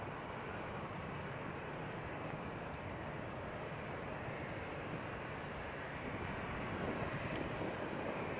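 An airliner at San Francisco International Airport gives off a steady, distant jet engine roar that holds evenly throughout, with no voices over it.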